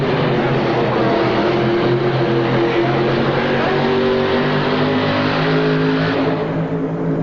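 A multi-engine pulling tractor with five or six motors at a 1986 tractor pull, a loud sustained droning engine roar holding steady for several seconds, with a voice faintly under it.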